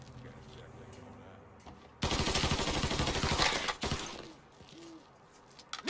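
A sudden loud burst of rapid automatic gunfire rattles for about two seconds in Mafia Definitive Edition on hard mode, with tight rhythmic shots, after a quieter stretch of ambience and distant voices.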